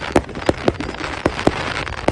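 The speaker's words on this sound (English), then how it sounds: "There's all the fireworks all for me." Fireworks burst over a city parade in a string of about seven sharp, irregularly spaced pops and cracks, close and fairly loud above a steady crackling background, with no talk.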